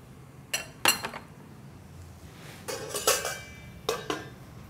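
A small spoon clinks against a pan several times in scattered bursts as black cumin is added for tempering, the metallic taps bright and close within a quiet kitchen.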